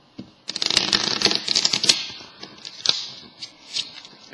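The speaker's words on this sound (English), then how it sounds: "terrible shuffle" A standard deck of playing cards is shuffled up close: a rapid, crisp riffling flutter, followed by a few sharp, scattered card snaps.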